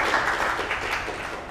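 An audience applauds after a talk comparing television and cinema, a dense, steady patter of many hands clapping at moderate distance, continuous for the whole stretch with no voices over it.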